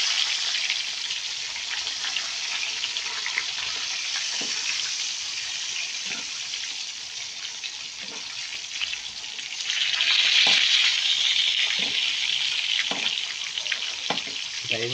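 Milkfish (bangus) frying in a pan, a steady loud sizzle and crackle of hot oil that swells louder partway through, with faint clinks of cooking utensils.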